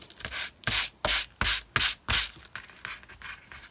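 Paper in a junk journal being sanded in six quick, rhythmic rasping strokes, close and scratchy, followed by a few fainter light rubs.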